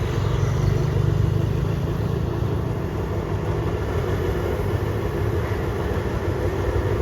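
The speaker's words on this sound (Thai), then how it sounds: "ตอนนี้ก็ได้สัญญาณไฟเขียวนะครับผม ให้ผ่านจุดตัดทางรถไฟได้นะครับ" A train rolls through a railway level crossing near Luang Chitrlada station in Bangkok, giving a loud, continuous low rumble and rattle of wheels and engine that holds steady throughout, with no voices.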